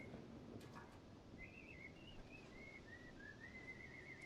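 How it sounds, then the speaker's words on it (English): Someone whistles a wavering tune in the video game Stray, soft and somewhat distant, over steady low background noise. "Somebody's whistling a tune."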